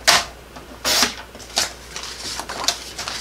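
Double-sided patterned card paper, striped on one side and dotted on the other, being trimmed to size with a few sharp, close cuts in an uneven rhythm, no talking.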